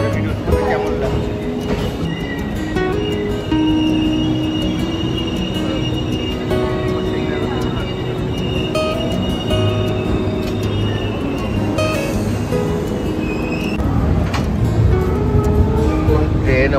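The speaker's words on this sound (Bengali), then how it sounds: "ট্রেন আমাদের ভুবনেশ্বর স্টেশনে পৌঁছালো।" The Garib Rath express on the Shalimar to Puri route pulls into Bhubaneswar station, with rumbling wheels, a sustained squeal and tonal hums, while voices carry in the background.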